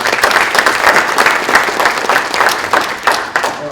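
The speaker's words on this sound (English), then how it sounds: "So big round of applause for our platinum sponsors" Sustained applause from an audience at an awards reception for a business conference, steady dense clapping filling the room throughout at a fairly loud level, with no voices standing out.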